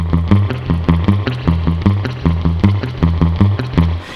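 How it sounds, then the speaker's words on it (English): Twangy electric guitar riff with a wet, drippy spring reverb, steady rhythmic picking repeating in loud, even phrases. "to be able to get that kind of drippy surf sound, which you really need a spring reverb for"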